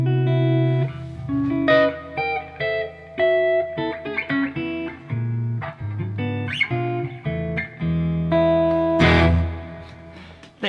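Electric guitar fitted with Chibson pickups in a Gibson body, played through distortion: a run of loud, sustained chords and picked notes with short breaks between phrases, heard alone without talk.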